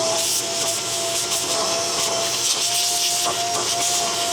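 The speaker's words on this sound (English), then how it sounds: "I'm going to vacuum this off, both sides, preferably the dirty side first." A vacuum cleaner sucks dust off the filter of a Shark Matrix UR23 robot vacuum, giving a loud, steady broadband roar with a thin constant whine running through it for the whole stretch.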